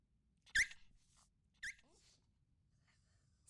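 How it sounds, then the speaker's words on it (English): A dog in the video game Eternal Sonata gives two short, sharp barks a second apart, small and high-pitched, with a faint squeaky sound between them against near silence. "Silly dog. Nothing's gonna come out of there no matter how much you bark."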